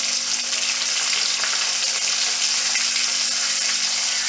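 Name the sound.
curry leaves and green chilli frying in oil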